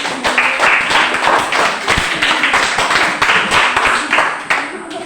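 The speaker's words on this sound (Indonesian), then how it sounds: "kita beri tepuk tangan untuk kelompok 4 yang sudah mempresentasikan hasil diskusi kelompoknya" A classroom of students applauds group 4, dense rapid hand claps sustained throughout, loud and close, with some voices mixed in.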